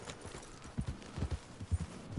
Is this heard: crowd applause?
no